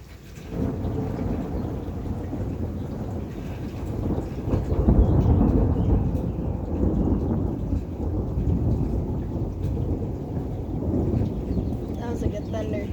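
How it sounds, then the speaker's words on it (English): Thunder rumbles low and broad through an evening thunderstorm, swelling to a heavy peak midway and then rolling on over steady rain. "That was a good thunder."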